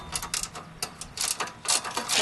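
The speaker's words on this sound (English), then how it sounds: "I'm just gonna put the screws back in." Small screws being driven back into the cover of a Ranch King carburetor, heard as a close series of light metallic clicks and ratcheting ticks in short uneven bursts.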